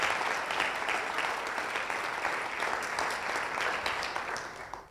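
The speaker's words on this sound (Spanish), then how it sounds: "Ese aplauso sonoro." A congregation applauding during a Spanish-language church service, a loud and sustained wash of clapping with no voices over it.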